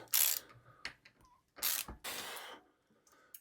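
A ratchet tightens the 14 mm crank bolt on a 1989 Brodie Romax bicycle, heard as a few close, loud bursts of rapid mechanical clicking separated by pauses.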